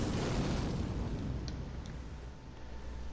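A fire incantation spell in the video game Elden Ring goes off as a loud, dense roaring blast that swells at once and then slowly fades into a hissing, rumbling tail.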